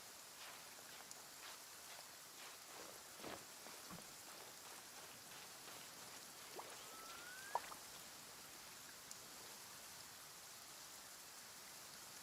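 Steady rain falls in the video game Genshin Impact, a quiet, even hiss of raindrops on surfaces with a few faint pattering taps and no voices.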